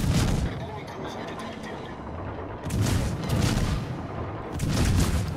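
Naval guns fire in the World of Warships video game, heavy booming salvos rolling out in three broad waves over a constant low rumble of battle noise.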